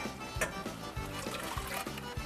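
Water pours into a cooking pot at the start of making coconut rice, a steady close splashing fill with no talk.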